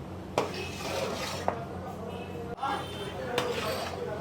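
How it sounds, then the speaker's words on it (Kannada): Chitranna seasoning paste is worked into rice with a metal utensil at a Bangalore street stall, producing a few sharp scraping clinks against a pan amid steady background noise and nearby talk. "ಚಿತ್ರಾನ್ನದ ಗೊಜ್ಜನ್ನ ಅನ್ನಕ್ಕೆ ಮಿಕ್ಸಿಂಗ್ ಮಾಡ್ತಾರೆ"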